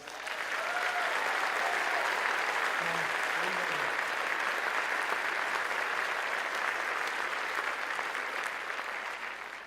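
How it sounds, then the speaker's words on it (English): An audience at a school leaders' conference in Liverpool gives a sustained round of applause, a dense, steady wash of many clapping hands, with a few faint voices underneath. "round of applause, please"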